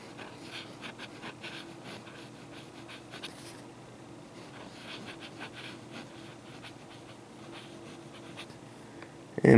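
A Lamy Safari fountain pen filled with Noodler's Blue/Black ink writes in cursive on paper, giving soft, close scratching strokes that come in short irregular bursts, with a bump at the very end.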